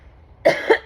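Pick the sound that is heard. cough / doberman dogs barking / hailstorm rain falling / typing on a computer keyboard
cough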